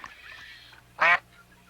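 An adult duck in a marsh gives a single short, loud quack after a faint, brief call.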